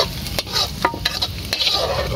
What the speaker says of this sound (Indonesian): Nah, jadi si minyaknya langsung dimasukin ya